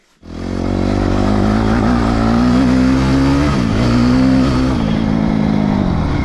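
A Yamaha YZF250 motorcycle fires up after a cylinder head repair and revs close by, the engine catching abruptly and then holding a loud, rising and falling idle-to-rev note with a dip partway through.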